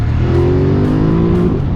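A 2017 Ducati Monster 1200 S motorcycle engine pulling hard under acceleration on a road, a loud close-up growl with a rising tone that holds steady.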